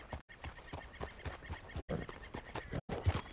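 A horse carrying a rider trots in Red Dead Redemption 2, with steady clip-clop hoofbeats close by and a whinny over them. The picture shows brief breaks in the sound.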